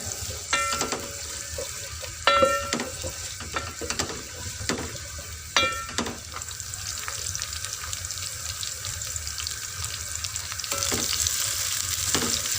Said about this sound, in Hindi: प्याज को हम फ्राई करेंगे।